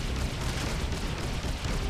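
Torpedo explosions in the space combat game Freelancer, a dense, continuous rumbling roar of blasts and booms without distinct breaks, loud and steady throughout with no voices.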